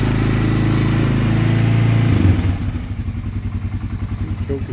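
A Honda 300 ATV engine runs while warming up, at first a smooth steady drone, then settling into a loud, close, chugging idle with a clear even pulse.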